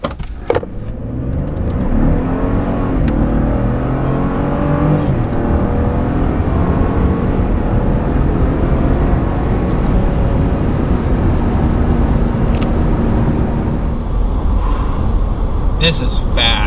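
A new gas-engined Ford F150 pickup accelerates hard from a stop with a loud, close engine roar that climbs steadily in pitch and holds strong. A voice can be heard beneath the engine.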